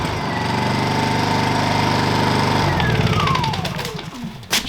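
A small petrol generator runs steadily after a first pull start with the choke on, a loud, close, continuous engine drone whose pitch dips and winds down toward the end, with no voices.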